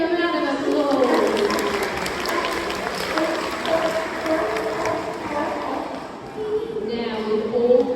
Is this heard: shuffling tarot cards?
no